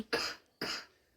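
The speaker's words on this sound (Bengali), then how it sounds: "কাশি হচ্ছে" A person gives two short, sharp coughs close up, about half a second apart, in an otherwise quiet room.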